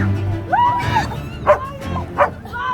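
A dog gives a few short, yipping barks and whimpers up close amid the noise of an outdoor forest gathering, with crowd sounds in the background.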